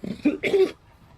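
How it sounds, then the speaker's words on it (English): Two short, harsh coughs in quick succession, close to the microphone, then quiet. "don't know why I randomly started coughing again."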